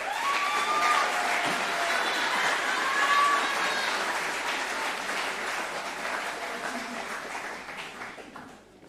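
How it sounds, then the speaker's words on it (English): Sustained audience applause at a school sports awards night, a dense wash of clapping from a large crowd that holds steady for several seconds before thinning and fading out toward the end. "Give them a massive round of applause"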